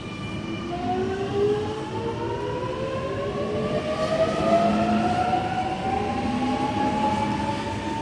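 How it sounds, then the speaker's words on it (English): An M26 passenger train pulls away from the platform at Rydalmere station at night, its motor whine sweeping upward in several rising tones over a continuous rumble of wheels, loud and close, with no voices. "And M26 is now departing platform number 1, Clyde service."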